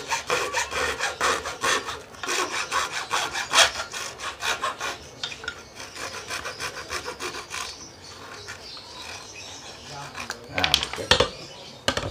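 Rapid rhythmic strokes of a handleless hacksaw blade cutting through metal, continuing back and forth for several seconds, with a few louder scrapes near the end.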